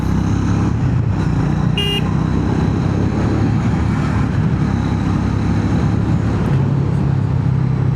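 A Triumph Speed 400 motorcycle accelerates up through all six gears, a loud steady engine and road roar filling the whole stretch with a brief high tone near the start and no voices.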